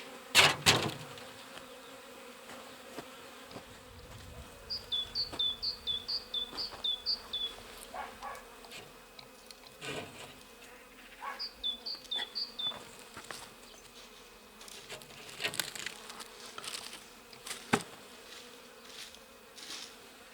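Honey bees buzz around an alpine beehive at an apiary, a close insect drone with knocks and handling noises from the hive work, and no talking.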